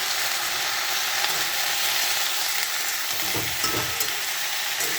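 Vegetables fry in a pan for a simple vegetable dish, lightly salted, and get stirred. A steady, close hiss of sizzling oil runs throughout, with a few soft scraping stirs near the end.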